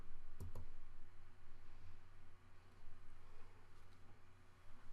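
Computer mouse clicks on an online payment page, a couple of quick, close clicks near the start, then a long quiet stretch with faint room hum.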